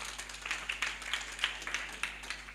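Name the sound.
congregation applauding in church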